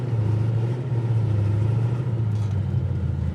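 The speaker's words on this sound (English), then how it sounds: "A little 3-point turn action here." A 1969 Dodge Coronet R/T with a 500 hp engine idles and creeps through a three-point turn, giving a steady, close, deep burbling rumble with slight swells in level and no speech.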